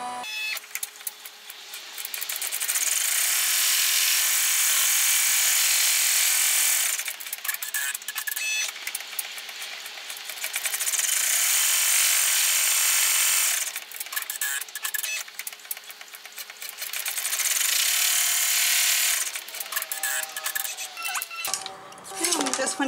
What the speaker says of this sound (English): we're going to run the tack down stitch for this one